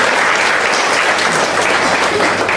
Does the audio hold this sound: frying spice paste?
no